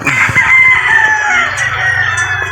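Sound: gamefowl roosters crowing at a game farm

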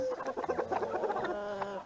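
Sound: roosters clucking waiting to be fed

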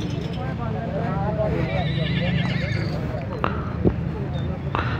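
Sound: horse neighing at a horse market in Gujrat

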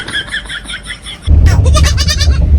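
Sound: goat bleating

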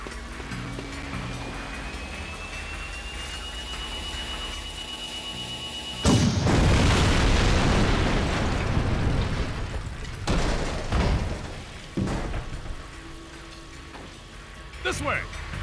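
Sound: tank being blown up in the video game Jak 2

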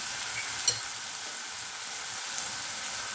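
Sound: eggs frying in a pan

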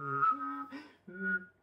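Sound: quick breath inhaled while whistling Satie's Je te veux

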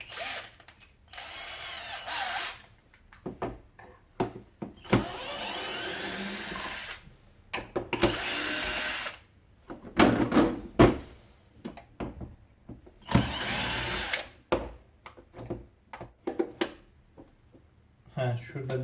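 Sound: unscrewing Philips FC9721 vacuum with T15 Torx screwdriver

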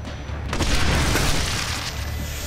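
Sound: flashbang grenade exploding in Splinter Cell Blacklist video game

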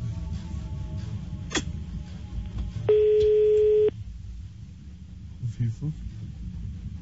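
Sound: telephone line tone while placing a call

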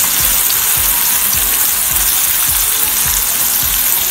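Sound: sautéing peanuts and chili thecha in a pan

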